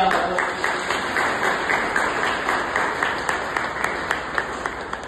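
An audience applauds steadily, a dense wash of clapping at moderate loudness that continues for several seconds without letting up.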